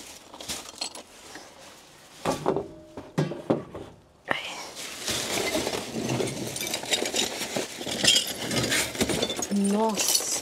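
Glass stemware clinks and rattles in several short bursts as it is moved around in a dumpster, with soft voices and handling noise in between.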